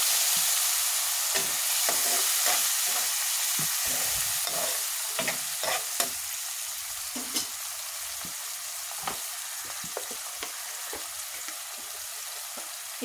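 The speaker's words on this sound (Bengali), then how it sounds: "আমার পেঁয়াজ ভাজা শেষ, আমি একটু পানি দিয়ে দিলাম কষানোর জন্য।" Water poured over fried onions in a pan, while cooking a katla fish curry, sizzles loudly and continuously, with scattered clicks and scrapes of stirring and no voices.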